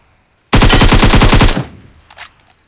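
Gunfire in the mobile battle royale game Battlegrounds Mobile India: a loud, rapid automatic burst of about a dozen shots over one second, followed by a short fainter click.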